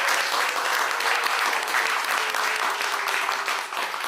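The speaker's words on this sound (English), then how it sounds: "Let's give them a round of applause" A crowd at a 2021 Montego Bay Community College graduation ceremony applauds the new graduates, steady dense clapping with cheering sustained throughout, fairly loud and close.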